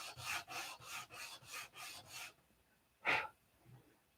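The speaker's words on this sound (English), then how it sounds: "We're going to sand down to the low." Sandpaper rubbed in short, even back-and-forth strokes across a finish, worked down to a low spot, about six rasping passes then a pause and one louder stroke, close and fairly quiet.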